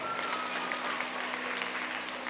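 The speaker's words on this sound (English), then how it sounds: "Give them a round of applause" Dense, steady clapping from a circus crowd, loud and continuous for a couple of seconds, with a faint tonal hum underneath.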